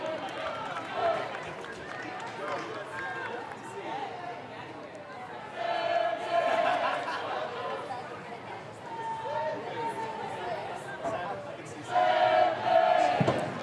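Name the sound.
football crowd chanting in support of Sydney FC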